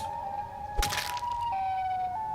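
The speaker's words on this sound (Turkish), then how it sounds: "Siren kafa tek bağırmayla hepsini öldürdü" Siren Head from an animated clash with Among Us characters lets out a loud, sustained siren-like scream that holds a steady wailing pitch, stepping down and back up, with a sharp crack-like burst partway through.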